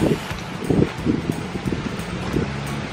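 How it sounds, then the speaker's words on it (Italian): Gusty wind buffets the microphone with uneven low rumbling bursts, loud and close, over a steady outdoor background on a Caribbean beach in Trinidad, Cuba. "C'è un po' di vento"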